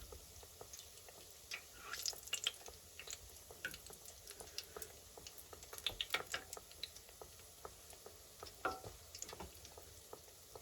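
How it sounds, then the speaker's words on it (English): Maple glazed donuts fry in a tea-pail fryolator, a faint, close bubbling and sizzling of hot oil with scattered soft pops and crackles. "Cooking them in this tea pail fryolator I got on Amazon."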